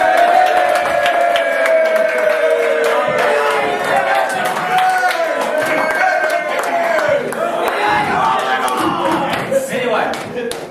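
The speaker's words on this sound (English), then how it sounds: "We'd like to give you a round of applause." A live show's audience cheers and claps loudly at the close, a dense, continuous crowd roar with shouts and scattered hand claps throughout.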